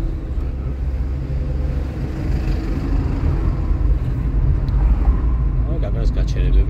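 A car engine hums and rises during a city driving lesson, a steady low rumble that grows slightly louder as the car accelerates, with a brief voice near the end.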